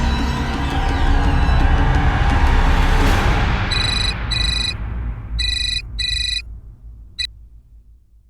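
Telephone ring tone heard while a call is placed, beginning under a loud noisy wash that fades, then clear electronic ring bursts repeating in short pairs with gaps, fairly loud and alone.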